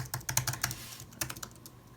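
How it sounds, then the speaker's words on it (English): Rapid, crisp key clicks from typing on an Apple Magic Keyboard, up close, in quick irregular bursts with a brief pause midway. "what I can tell so far is that it's quite a nice keyboard to type on"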